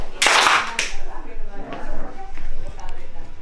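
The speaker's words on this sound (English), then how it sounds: "Clap." A few sharp hand claps at a surprise party ring out near and loud at the start, followed by scattered softer taps while a voice talks.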